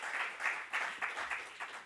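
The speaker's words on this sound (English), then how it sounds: "Please, a round of applause for our panelists." An audience applauds panelists at a World Health Assembly event. The clapping is fairly faint and comes in soft, pulsing swells that rise and fall for about two seconds.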